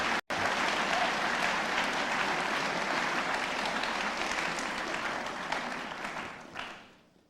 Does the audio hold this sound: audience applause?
yes